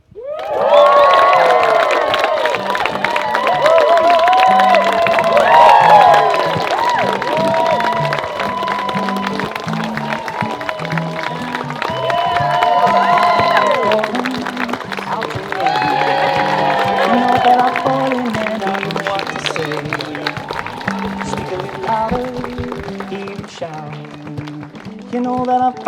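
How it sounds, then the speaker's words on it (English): Wedding guests at Chippenham Park Gardens cheer and applaud a newly married couple, a steady crowd roar with clapping and shouts that lasts throughout, with music and voices mixed in. "And let's have a huge cheer as we welcome our new..."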